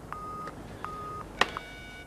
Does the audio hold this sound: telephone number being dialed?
yes